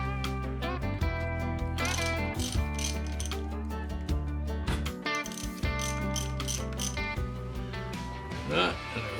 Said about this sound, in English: now I get a socket for that.